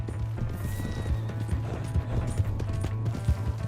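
A horse gallops in Red Dead Redemption with steady, rapid clip-clop hoofbeats over a low ambient rumble, close and continuous throughout.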